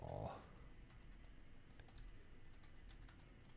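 Typing on a computer keyboard, a quiet run of soft, irregular key clicks after a brief louder noise at the start, heard alone at low level.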